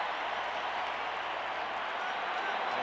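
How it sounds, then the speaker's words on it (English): A packed baseball stadium crowd at a 1987 World Series game roars and claps in a dense, continuous wall of cheering that holds steady throughout. "And this crowd is picking up right where they left off last night"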